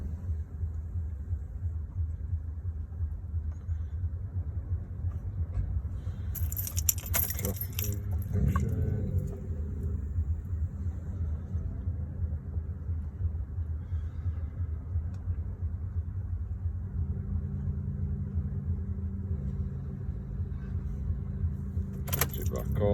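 A car key jingles and turns in the ignition, with bright metallic rattles in two brief bursts over a low, steady vehicle rumble.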